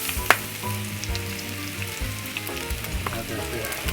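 Butter sizzles on a Blackstone flat-top griddle with a steady, close crackle. Brief spatula scrapes and taps cut through it, and there is no talking.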